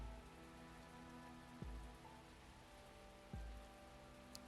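Heavy rain from the video game Arknights, a dense steady hiss of falling water with two low thuds breaking through, no voices.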